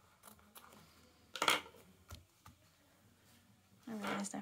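Scissors snip off excess material while sewing an extra-large purse, giving two or three short, crisp cuts amid quiet handling noise, with a closing louder snip near the end.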